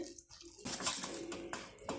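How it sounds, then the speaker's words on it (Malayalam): Water is poured in a short trickle and splashes softly into a bowl of puffed rice pakkavada batter, quiet and close. "നമുക്കിനി കുറേശ്ശെ വെള്ളം ഒഴിച്ചൊന്ന് കലക്കാം"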